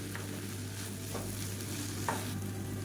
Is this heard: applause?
no